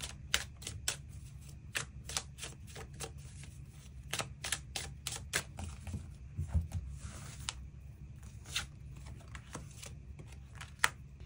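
Tarot cards are shuffled and drawn, giving a rapid run of crisp card flicks and slaps over a steady low hum, close and fairly clear.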